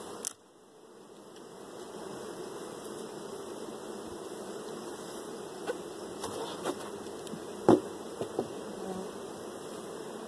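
Honeybees buzzing inside an opened washboarding hive, a steady close swarm drone rising after a brief opening knock, with a few sharper bumps and clicks near the end.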